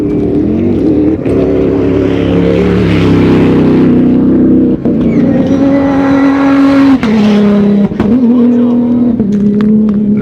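Dakar rally cars race along a desert track about ten metres away, their engines roaring loudly and continuously as several vehicles speed past in succession, the pitch rising and falling with each pass.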